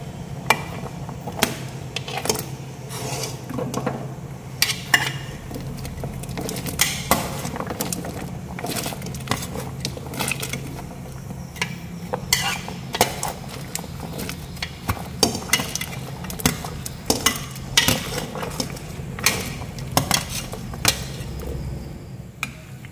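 Vegetables for a vegetarian macaroni soup added to a pot of about three liters of boiling water and stirred, with repeated sharp clinks and knocks of a utensil against the pot over a soft bubbling background.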